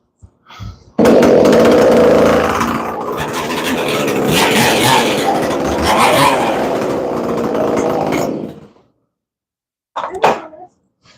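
A small chainsaw fitted with a muffler mod fires up on a rope pull and runs at a loud, steady roar for about seven seconds, then cuts off; a brief burst of talk follows the silence.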